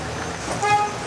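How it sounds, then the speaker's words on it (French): A truck's horn toots once, briefly, at a roadside delivery stop while a lorry blocks the road, heard moderately close over steady traffic rumble. "Un klaxon?"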